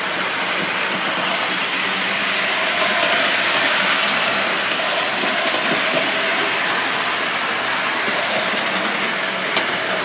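A small O-gauge model train rattles steadily along its track, a continuous close whirring and clicking with no pauses.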